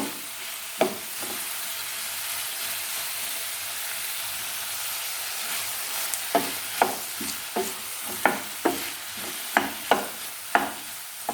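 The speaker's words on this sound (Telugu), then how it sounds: "బాగా కలిసేటట్లు తిప్పుకోండి" A spoon stirs cauliflower, soaked chana dal and tomato as they fry in a pan, producing a low sizzle with a series of sharp scraping knocks. The knocks grow quicker and more frequent in the second half, close by and with no voices.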